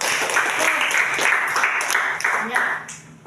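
A classroom of students applauding together during a lesson, a bright burst of many hands clapping that holds steady and then drops off quickly near the end, fairly close and loud.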